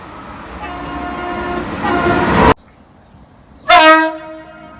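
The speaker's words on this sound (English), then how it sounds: "Thanks for the horn." A passing train sounds its horn in a loud, close, sustained two-tone blast that cuts off abruptly, followed by a brief quiet gap and a second short, strong horn burst, with rumbling rail noise beneath.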